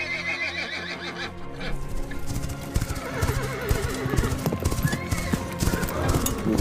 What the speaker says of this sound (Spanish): posteriormente se escuchan como caballos que vienen a galope